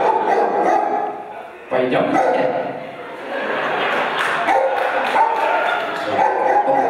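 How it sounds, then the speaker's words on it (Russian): A pet dog barks and yips near a house on a hillside, several sharp barks mixed with whimpers, heard under a person speaking. "Сейчас мы только собачку успокоим."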